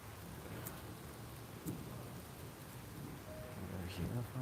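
Steady rain falls outdoors at night with a soft, continuous hiss of drops on surfaces, faint and distant, with a few brief louder patters and no clear voices.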